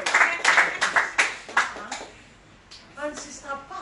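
A church congregation claps at a women's fellowship anniversary service. About two seconds of steady rhythmic claps fade out, then voices follow.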